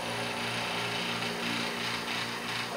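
A vacuum pump pulling vacuum on an engine block to draw in fluid: a steady mechanical drone with a constant motor hum, loud and close, running without a break.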